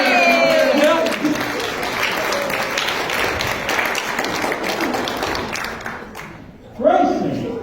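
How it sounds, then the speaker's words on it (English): An audience at a magic show claps for a volunteer, steady crowd applause throughout, with a voice speaking briefly at the start and again once the clapping fades near the end. "Everybody give Grayson a big round of applause."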